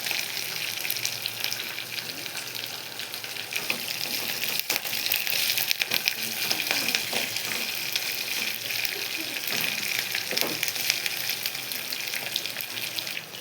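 Curry leaves frying in a pan for ridge gourd peel chutney, a dense continuous crackling hiss with occasional faint stirring knocks, steady throughout and no voices.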